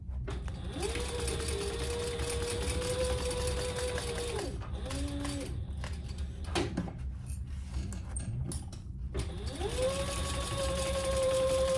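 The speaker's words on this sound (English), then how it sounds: "now we're gonna sew across those short sides at the mark, the 1/2 inch line, and backstitch well" A sewing machine stitches across the short sides of a waxed canvas crossbody bag padded with foam, running in steady bursts that rise to speed, pause with brief handling clatter, then start again; close and continuous.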